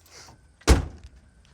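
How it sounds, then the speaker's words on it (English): A single solid thunk of a 1969 Ford Mustang's door shutting, heard close against a quiet outdoor background. "Doors open and close"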